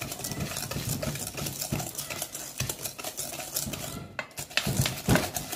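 Butter and sugar beaten together by hand in a bowl, a wire whisk scraping and clattering in quick continuous strokes, close and busy, with no talking.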